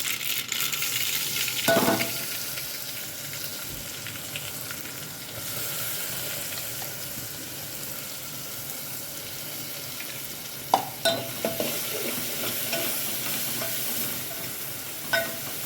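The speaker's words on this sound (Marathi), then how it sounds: "आता हे वाटण थोडंसं भाजलं" Thick masala paste roasting in a pan for Maharashtrian masala varan fala, a steady soft sizzle with a few sharper scrapes and stirs, close and alone with no voices.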